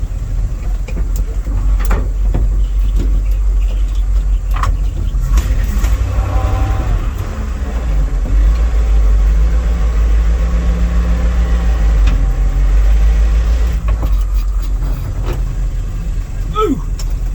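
Engine of a 1979 Dodge W300 Club Cab truck, damaged by a fallen tree, idling roughly on about four cylinders: a loud, close, low rumbling drone with uneven throbbing, continuous throughout.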